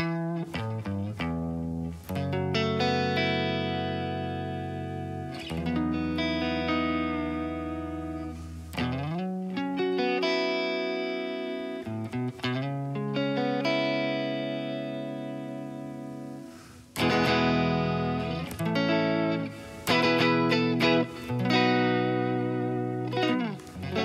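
Clean electric guitar through a Hiwatt Custom 100W Kemper profile, played as ringing chords and single notes with long sustain and a slight chorus-like shimmer, close and full, without speech.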